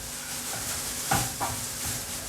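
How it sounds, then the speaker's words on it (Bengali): Garlic fries over a medium flame until golden brown in a pan for dal makhani. A faint, even sizzle runs throughout, broken by a few louder stirring scrapes, with no voices. "রসুনটা আচ্ছা করে ভুনে নেব আমি একদম ব্রাউন করে ভুলতে হবে একদম গোল্ডেন ব্রাউন"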